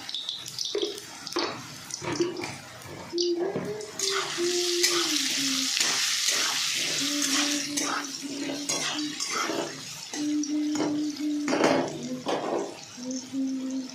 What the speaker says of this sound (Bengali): ভালো করে আলুটা দিয়ে ভাজতে হবে।